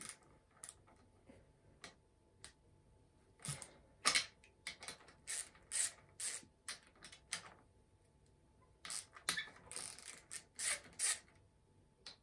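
A small 10 mm ratchet works loose the fork clamp screws on a motocross bike, giving bursts of quick, crisp clicking that come and go between pauses, close up and with no talking.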